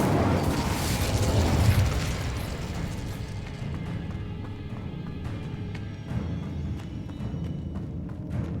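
A fire spell cast in the fantasy game Hogwarts Legacy, heard as a loud burst of roaring flame that carries on as a dense, crackling rumble with scattered pops and thuds.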